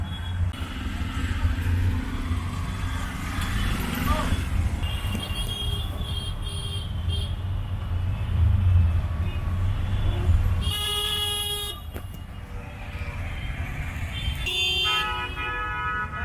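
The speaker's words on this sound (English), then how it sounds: "Made it into our first auto rickshaw." Riding in an auto rickshaw through dense Dhaka traffic: a continuous rumble of engines and passing buses and trucks, with repeated car horns honking and tooting nearby, loud and overlapping, no talk.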